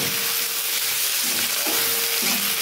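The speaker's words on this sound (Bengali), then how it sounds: "আর টমেটোটা এখন একটু ভালো করে ভেজে নিতে হবে" Tomatoes fry in a pan for an egg fry gravy, a continuous close sizzle with short scraping strokes of a stirring spatula at intervals.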